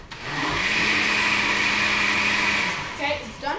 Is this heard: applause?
no